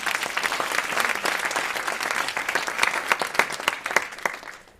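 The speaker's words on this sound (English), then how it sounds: "Let's get a round of applause for our panelists." Audience at a criminal justice panel on Rikers Island claps for the panelists, many distinct hand claps merging into steady, moderately loud applause that tapers off at the end.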